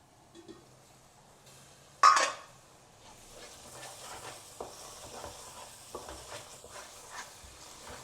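Spice paste sizzles steadily in hot oil for kushka, a spiced rice dish, with a sharp clatter of a spoon against the pan early on and soft stirring scrapes throughout.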